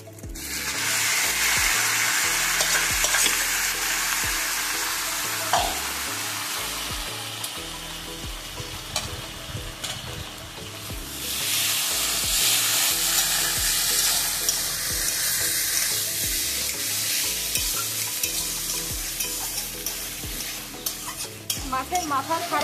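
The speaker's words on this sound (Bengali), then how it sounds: "পেঁয়াজ রসুন এই সব কিছু ভালোভাবে ভাজা হয়ে গেছে, এবার আমি সিদ্ধ করা কচু শাকটা দিয়ে দেবো।" Boiled taro leaves fry in a pan with onion and garlic, stirred steadily. A loud, continuous sizzle runs throughout, with repeated scraping stir strokes and a brief metallic knock near the middle. No voices.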